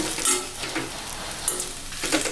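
Masala sautéing in a heavy iron pan for a brinjal curry, a steady close sizzle with soft stirring scrapes surging in brief bursts, no talking.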